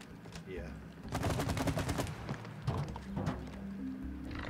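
Sap gun firing in the co-op video game It Takes Two, a rapid burst of repeated shots close up, running several seconds over game sounds and background music.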